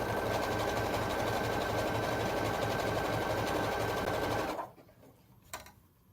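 A sewing machine stitches fabric for a Black Power flag, running in a loud, steady rhythmic burst for about four and a half seconds before stopping, followed by a brief faint clatter.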